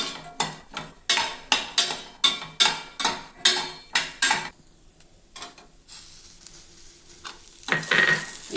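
Dry fruits roasting in a pan on low heat for dry-fruit laddu, a close series of rhythmic scraping stirs against the metal pan with a soft sizzle, pausing midway before a brighter rattle of ingredients near the end; no talk.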